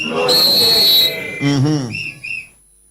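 A shrill whistle is blown at a live anti-corruption radio programme: a piercing blast, then warbling, wavering tones and a short final chirp, loud and close before falling silent.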